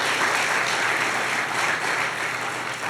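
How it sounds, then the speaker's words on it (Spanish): A church congregation gives sustained, dense applause in a large worship hall, a steady wash of many hands clapping at once with no voices over it. "denle un aplauso al Señor de gratitud"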